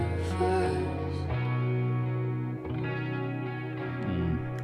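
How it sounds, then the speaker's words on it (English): An electric guitar drenched in distortion and chorus effects rings out in sustained, layered chords within a song, continuous and full with no talking over it. "great effects on that guitar"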